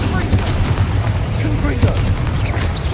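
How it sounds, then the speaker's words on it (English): Incendio fire spell cast in Hogwarts Legacy, a rumbling, booming burst of magical fire with crackling impacts, heard through continuous game noise while a voice calls out over it. "Incendio!"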